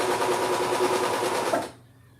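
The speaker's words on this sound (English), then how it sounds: "Sewing." A sewing machine stitches a t-shirt being downsized, running in a steady, fast, rattling whir for about a second and a half before stopping and leaving near silence.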